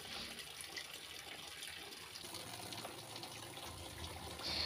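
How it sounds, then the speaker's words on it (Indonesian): Raw chicken is rinsed under a running tap in a kitchen sink: a faint, steady stream of water splashes and trickles throughout, with a slight surge at the end and no talking. "Dan ini saya akan cuci sekali lagi untuk memastikan ayamnya benar-benar bersih."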